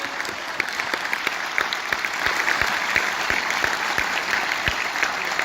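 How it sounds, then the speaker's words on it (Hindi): Steady, continuous clapping fills a hall at a Kota coaching motivational talk as the audience applauds the parents. It is moderately loud and unbroken for several seconds. "तो एक बार माँ बाप के लिए जोरदार तालियां बजा दीजिए।"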